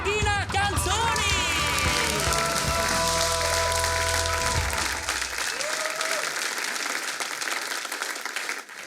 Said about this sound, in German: Ein schöner Applaus bitte für Angela Pina Canzoni